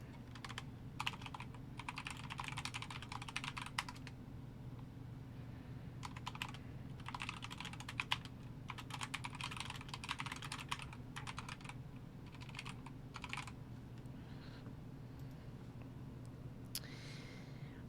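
Bursts of rapid clicking from a computer keyboard being typed on, close and steady, with pauses between runs over a constant low hum.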